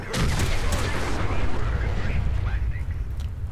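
A grenade explosion in the video game Fallout 4: a loud, rumbling blast that rolls on without a break, with a voice talking over it.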